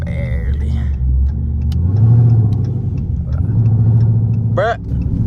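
A supercharged Hemi engine with no muffler rumbles and revs up and down under close, loud talk from people in the car.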